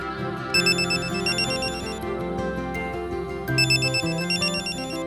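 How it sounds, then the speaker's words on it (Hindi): A phone rings with a melodic electronic ringtone, two bursts of chiming tones repeating over a continuous musical backing. "सिद्धार्थ का फोन है"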